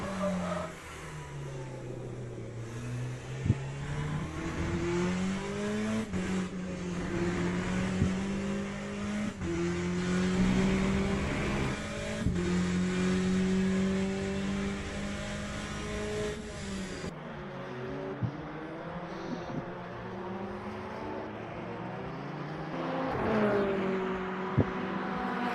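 Ferrari GTE race car engine in the Le Mans Ultimate sim racing game drones steadily, its pitch climbing and dropping through gear changes and corners, loud and continuous with occasional sharp clicks and no talking.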